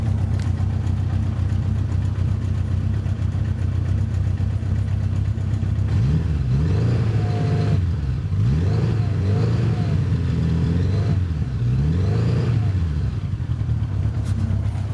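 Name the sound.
motorcycle engine idling and revving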